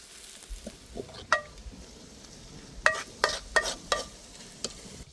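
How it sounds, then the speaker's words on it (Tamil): Green chili, curry leaves and onion sautéing in a pan, a soft steady sizzle under sharp intermittent clinks and scrapes of a stirring spoon against the pan, close up and without speech. "அதனால் நல்லா வதங்கிக்கிறோம் பச்சை மிளகா கருவேப்பிலை வெங்காயம்"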